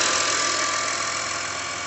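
A used car's engine idles steadily under an open bonnet during a pre-purchase check, a close, even mechanical hum with no voices.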